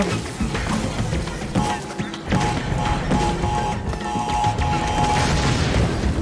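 Explosions in the Crash Bandicoot 4 video game, dull booms and crashes mixed into dense game music and effects, several hits spread across the stretch.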